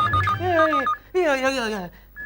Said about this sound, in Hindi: मेरे बॉस का फोन होगा